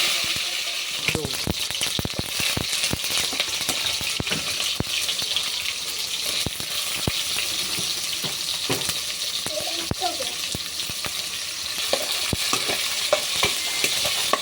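Vegetables sauté in a hot pan for Filipino ginisang mustasa, a steady close sizzle and frying hiss with frequent scraping stir strokes throughout.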